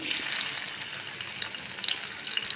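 Chopped garlic and a dried red chili hit hot oil in a kadai for a greens-and-shrimp dish, giving a loud, steady, crackling sizzle with bright spits and pops throughout and no voices.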